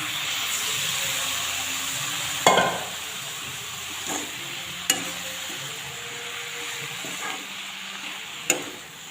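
Spinach tipped into a pan of fish frying in oil: a steady sizzle and hiss with a few sharp clatters of stirring, close by and with no talk.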